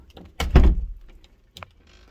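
A basement door being pushed or shut, one heavy thud with a rattle near the start and a lighter knock a second later, close by, no talk.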